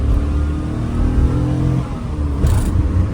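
A Daihatsu Move with a manual gearbox accelerating, its small engine droning loudly from inside the cabin, with a brief dip and a rising whine near the end as the revs climb again.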